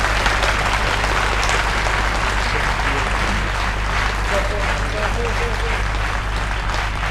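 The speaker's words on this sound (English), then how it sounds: "Round of applause." A hall audience at an inter-school quiz competition for a Sainik School Gopalganj raising day gives a loud, sustained round of applause, steady clapping layered over a constant low electrical hum, with some voices mixed in.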